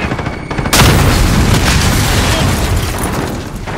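Sustained gunfire and booming blasts in a Call of Duty Modern Warfare team deathmatch, loud and dense, starting abruptly after a brief quieter moment and continuing as a steady roar of shots and explosions.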